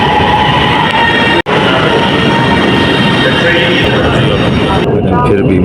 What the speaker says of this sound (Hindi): और ये ट्रेन का व्यू